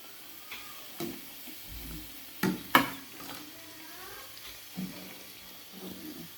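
Potato chip pakoras are lifted out of hot frying oil, with soft sizzling and a few distinct clinks and scrapes of a utensil against the pan, all fairly quiet.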